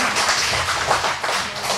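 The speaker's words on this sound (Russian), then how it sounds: "Аплодисменты." Applause from an audience at a Knowledge Day school event on September 1st, a dense, steady patter of many hands clapping at close range for a couple of seconds.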